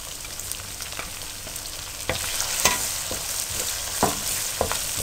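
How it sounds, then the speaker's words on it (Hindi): Garlic, ginger and green chili frying in a pan for chicken masala curry, a steady close sizzle with a few sharp stirring scrapes, no voices. "आपने 1 मिनट के लिए इसको फ्राई करना है, लहसुन को ज़्यादा देर फ्राई नहीं करना"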